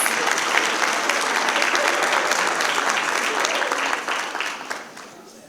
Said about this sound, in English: Let's give Jasper a huge round of applause.